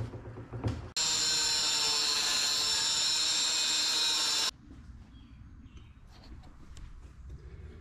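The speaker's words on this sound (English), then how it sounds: "I'm going to put this grinder on and get these not so sharp, nice and flat" An angle grinder whines loudly and continuously for about three and a half seconds as it flattens sharp metal edges during intercooler fabrication on a boosted Lexus GS400, starting and stopping abruptly, with quieter shop handling noise before and after.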